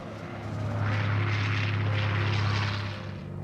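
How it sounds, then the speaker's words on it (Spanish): Propeller planes and jets fly in formation after taking off from the aircraft carrier Valley Forge, a continuous loud droning engine roar with a steady low hum that swells and fades slightly. "Tras despegar de la cubierta del Valley Forge, los aviones de hélice y los jets se alineaban en el aire."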